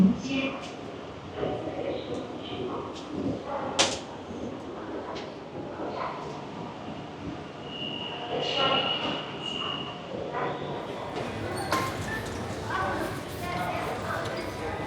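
Beijing metro train ride, with the steady rumble and rattle of the carriage running beneath ongoing chatter and station noise, a brief high tone and door or brake sounds rising near the end.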